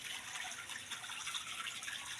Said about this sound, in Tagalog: dyan po nanggagaling yung source ng tubig para po dito sa pool